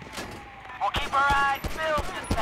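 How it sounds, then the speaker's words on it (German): Gunfire in a GTA V police-mod gameplay session: several sharp, loud shot bursts in quick succession over roughly two seconds, layered with other game sounds. "die schießen auf mich"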